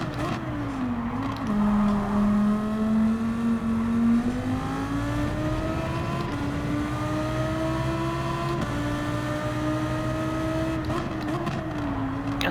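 A race car engine in Gran Turismo 7 drones continuously during a daily online race, its tone dipping and then climbing steadily as the car accelerates, with no voices over it.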